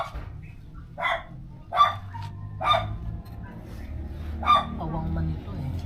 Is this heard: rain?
no